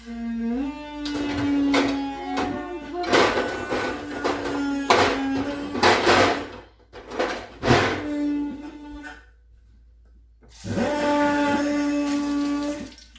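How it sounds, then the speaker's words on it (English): A power drill motor outdoors whines with a steady pitch in bursts, stopping and starting, with a gap of near silence before it runs again. "So he's drilling up a bit."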